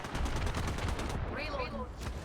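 Rapid bursts of gunfire in a video game, dense and continuous under a noisy mix with a voice briefly calling out.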